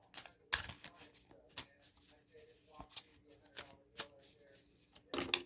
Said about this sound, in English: So we'll shuffle some more.